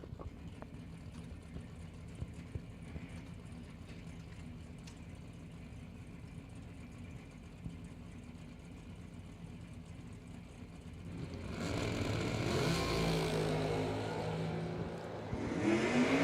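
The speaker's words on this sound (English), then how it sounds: "George in the left lane, driving a vicious vet. Dial 602. Price, low ride Mustang." Drag race cars, a Corvette and a low-riding Mustang, idle with a steady low engine rumble before loud revving and roaring take over near the end, heard at a distance in an outdoor race setting.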